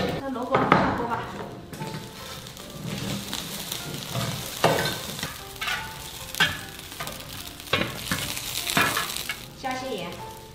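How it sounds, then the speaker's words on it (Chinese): Chunks of radish dropped into a hot pot, then stirred with a utensil, giving sizzling and frying crackle with scraping strokes and clatters. A voice speaks at times over the cooking noise. "这萝卜下锅吧"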